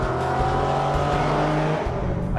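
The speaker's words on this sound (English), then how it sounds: "the exhaust note on the G37 sounds better than the 370Z." An Infiniti G37S engine drones with a deep, steady exhaust rumble, close and continuous, rising slightly in pitch toward the end.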